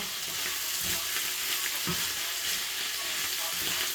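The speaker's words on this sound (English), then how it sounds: "And then give it another stir." Pasta sauce with pepper and salt sizzles in a pan as it is stirred for Pollo Pesto Chorizo pasta, a steady frying hiss with soft scraping strokes close by.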